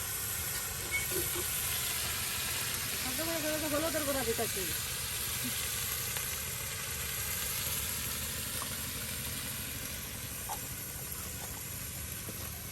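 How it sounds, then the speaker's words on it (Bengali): Turmeric and spices fry in a pot on a village stove, producing a constant loud hiss and sizzle across the whole stretch, with a brief voice-like sound rising briefly above it. "এই এবং সব কিছু দিয়া এবার মিক্স করে ভাজা ভাজা করা হচ্ছে।"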